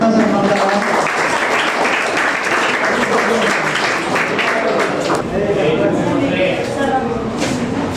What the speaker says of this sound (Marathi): टाळ्या वाजत